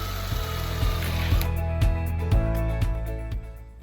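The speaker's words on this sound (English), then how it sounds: "And then we are putting the screws using an electric screwdriver." An electric screwdriver drives screws into a pergola top rack hung over a beam: a steady low motor drone carries a regular series of sharp clicking knocks, close and fairly loud, with no speech.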